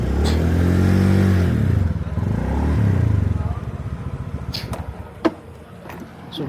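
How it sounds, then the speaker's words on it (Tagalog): A motorcycle engine running in flood water revs and then slows, its loud, close rumble settling into a choppy, sputtering idle with a sharp clatter near the end. "Grabe lain kag tingog ang motor nga."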